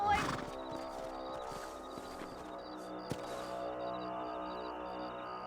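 Horses neigh and whinny in the video game Red Dead Redemption, a loud whinny at the start followed by scattered hoof clops, a sharp thump, and a steady musical game backdrop.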